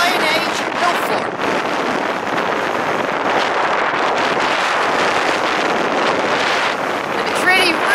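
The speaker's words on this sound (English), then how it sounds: "it's really, really, really blowy." Strong wind buffets the microphone on top of an Iron Age hillfort at Rowberrow in November, a loud continuous roaring rush that dominates throughout, with someone talking faintly beneath it.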